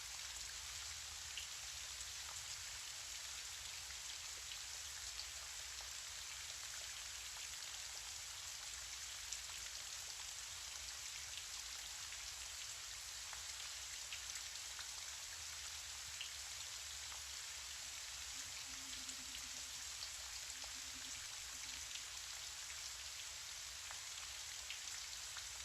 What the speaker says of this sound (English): Continue to breathe as you listen to the rain.